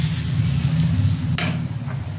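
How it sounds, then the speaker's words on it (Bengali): Spice paste goes into mutton frying for a Bengali-style mutton kosha, giving a steady loud sizzle and bubbling with one sharp clatter partway through. "এবার আমি দিয়ে দেবো ওই মশলা ঘোলটা।"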